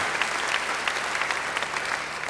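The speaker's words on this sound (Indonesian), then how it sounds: "Beri tepuk tangan yang baik bagi dia" A church congregation applauds after a sermon, a dense, steady burst of clapping from many hands filling the room.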